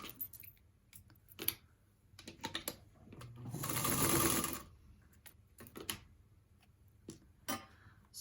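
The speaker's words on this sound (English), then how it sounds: "And I'm sewing off that rectangle on the bottom, but I'm still going to my corner." A sewing machine stitches across a fabric rectangle for quilting, with one sustained run of steady mechanical whirring in the middle, surrounded by short ticks, clicks and handling noises.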